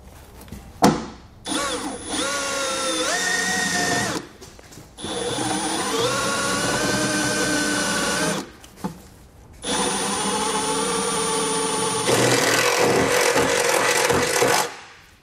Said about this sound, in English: Take my drill and bit